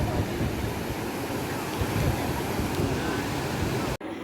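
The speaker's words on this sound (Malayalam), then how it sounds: "അങ്ങനെ കടൽ." Sea waves wash continuously onto a beach in a steady broadband roar with wind, loud and close, ending abruptly near the end.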